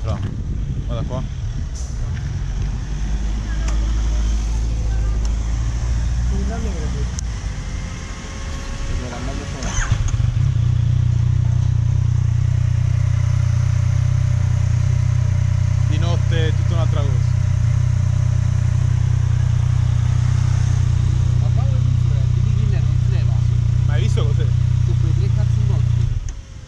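A Yamaha MT-09 SP motorcycle engine starts and runs at a loud, steady idle up close for a long stretch after quieter chatter, with people talking over it at times.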